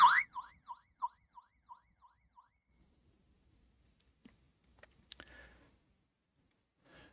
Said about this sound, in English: If you long press this button, it will sound a little personal alarm.